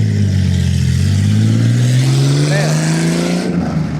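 A loud car accelerates past on a street, its engine note climbing steadily and dominating throughout before dropping away near the end, with a faint voice underneath.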